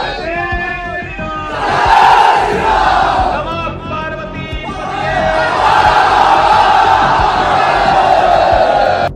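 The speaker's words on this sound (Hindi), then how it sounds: "जय श्री राम और बाबा का बुलडोजर के नारे" Large crowd at a Yogi Adityanath election rally in Bihar chanting Jai Shri Ram slogans, a loud rhythmic unison of many voices in rising, repeated calls, close and filling the space, swelling twice.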